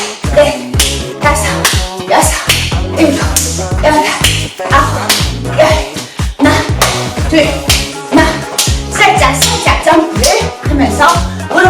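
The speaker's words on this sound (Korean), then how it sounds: "앞박수 둘셋" Hand claps in front of the body during a group exercise routine, struck in a steady counted rhythm over loud upbeat workout music.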